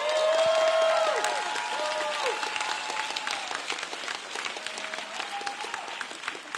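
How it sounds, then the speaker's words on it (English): A large commencement crowd breaks into sustained applause, dense clapping with some cheers and whoops rising over it and easing slightly toward the end. "Another round of applause for Sophia."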